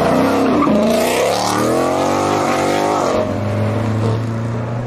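A Ford Mustang engine roars loud and close as the car accelerates, its pitch climbing through gears, with a tire squeal as it launches and a steady high-revving drone at the end.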